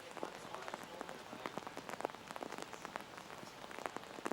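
Rain falling at an outdoor archery match, a faint, steady patter of drops on surfaces with scattered sharper taps throughout.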